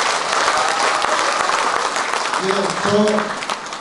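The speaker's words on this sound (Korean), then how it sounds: "큰 박수로 한번 환영해 주세요" Applause from an audience at the opening ceremony of a folk percussion contest and traditional wrestling event in Okcheon, dense clapping that thins toward the end as a voice speaks briefly over it.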